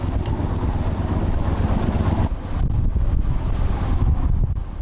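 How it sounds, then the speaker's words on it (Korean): Strong wind buffets a small fishing boat out at sea, a loud rushing roar with gusty rumble and wave wash, continuous and close. "매서운 바람에 제멋대로 요동치는 조각배."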